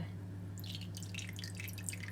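Water drips and trickles while fresh wakame seaweed from the sea is rinsed in clean water. The soft, close splashes come in quick irregular bursts over a low steady hum.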